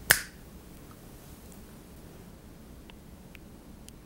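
One crisp, close finger snap sounds at the start during a Dianetics session, followed by near silence with a low hiss and a few faint, tiny clicks.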